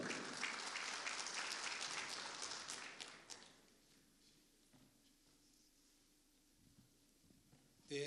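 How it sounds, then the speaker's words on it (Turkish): A crowd at a press conference for a Turkish oil wrestling league applauds warmly for about three seconds, then the clapping thins out and dies away into near silence. "Coşkulu alkışlarınızla Şahin Bey Belediye Başkan Vekilimi Sayın Cum"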